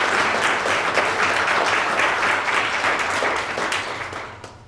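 An audience bursts into sustained, dense applause that fills the room loudly and steadily before tapering slightly at the end, with no voices over it.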